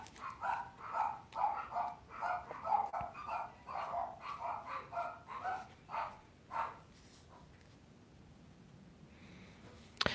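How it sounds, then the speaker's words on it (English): Several dogs bark in a burst of repeated yaps and woofs at close to moderate distance, fading out partway through and leaving a quiet room. "And there go my dogs."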